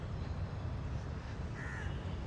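A single crow caws in the distance over a steady, loud background rumble of construction near a mosque in Kuala Lumpur.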